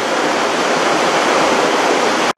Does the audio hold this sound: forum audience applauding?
no